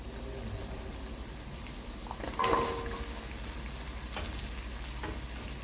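Shrimp and malabar spinach stalks fry in a pan with a steady, soft sizzle, and a brief stir or clatter breaks in midway.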